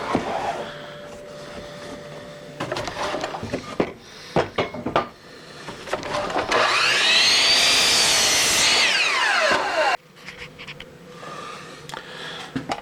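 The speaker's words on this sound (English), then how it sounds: "I'm cutting two 2x4s, 62 inches long." Power saw cutting through cedar 2x4 boards for a garden bench, a loud sustained whining cut lasting a few seconds after scattered knocks and handling of the wood.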